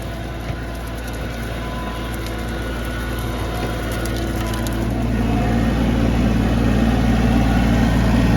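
A Japanese Iseki TA 235 tractor tills soil with a rotary tiller at 540 PTO in second gear, mid range. The engine drones steadily and close, its load rising slightly toward the end, with no talk.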